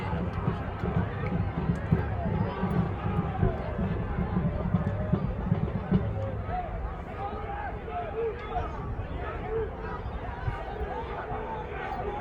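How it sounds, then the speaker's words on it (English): Crowd at a Rootstown high school football game against Mineral Ridge, a steady dense murmur of many voices and scattered shouts carrying on loudly throughout with no single speaker standing out. "Well, Rootstown's crowd is unhappy."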